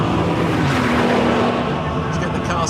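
A Bugatti Veyron accelerating on a banked test track, its engine a loud continuous roar with steady droning tone and road noise, heard up close from inside the car.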